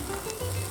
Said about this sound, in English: Let's add our onion,